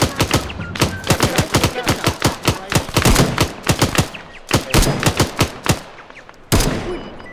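Rapid, loud gunfire in Arma 3, with sharp rifle shots cracking in quick irregular bursts and runs, plus a heavier blast near the end. No one speaks.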